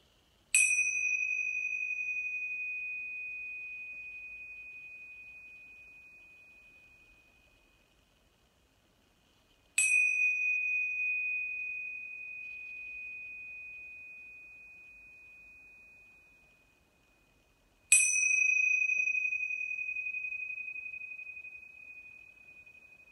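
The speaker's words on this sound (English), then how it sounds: "being aware of our chimes." Meditation chimes at a home yoga session ring three times at even intervals, each a clear bright strike that rings out and fades slowly into near silence before the next.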